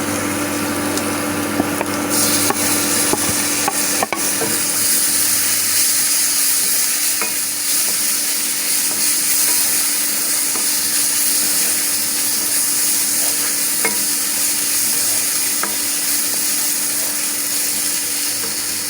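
Spices and tomatoes fry in a pan with a constant loud sizzle, and a spoon stirs through them with occasional scrapes and clinks.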